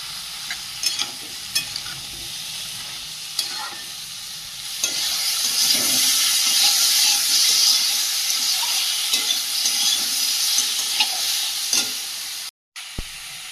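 Crab chorchori stir-frying in a pan, with a steady loud sizzle and hiss and occasional scraping stirs, continuous and close, ending with a brief cut to silence.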